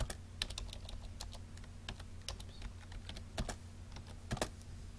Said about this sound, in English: Then what you do is you type in whatever you want.